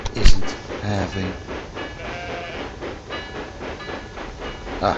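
Mail and passenger trains run in the video game Railway Empire 2, a continuous rumble of rolling rail cars with rhythmic clatter and a brief whistle-like burst near the start, at moderate loudness.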